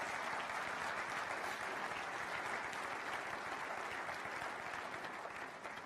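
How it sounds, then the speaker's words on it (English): An audience at a 2015 State of the County address breaks into loud, sustained applause, a dense wash of clapping that holds steady for several seconds before easing slightly at the end, with no speech over it. "who is deserving of his own round of applause"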